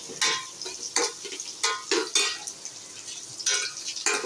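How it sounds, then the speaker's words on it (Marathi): Onion sautéing in a pan, stirred again and again with a spoon, giving repeated short scraping strokes over a quiet, steady sizzle. "कांदा थोडासा परतून घ्यायचा. पिवळसर होऊ द्यायचा, जास्त जाडू द्यायचा नाही. वारंवार चमचा हलवत राहायचा त्याच्यामध्ये."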